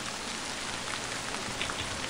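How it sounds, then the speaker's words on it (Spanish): Heavy rain in the video game Forest of Drizzling Rain, a dense, constant hiss of downpour, loud and steady throughout. "La lluvia se ha vuelto terrible."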